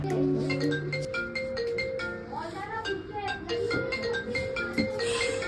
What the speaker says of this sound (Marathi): आत्ता कोणाचा फोन आला सकाळी सकाळी